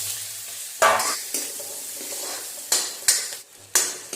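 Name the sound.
onion and chili frying in hot oil with cumin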